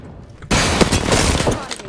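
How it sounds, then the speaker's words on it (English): A sudden burst of rapid gunfire erupts in an Apex Legends match, loud and close, continuing as a dense volley of shots after a quiet start. "Getting shot at."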